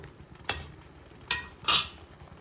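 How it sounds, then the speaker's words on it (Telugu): Salted eggplant pieces fry in a pan under a soft, steady sizzle, broken by three crisp scraping stirs of a spatula. "తగినంత సాల్ట్ వేసుకొని వంకాయలు వేసుకోవాలి."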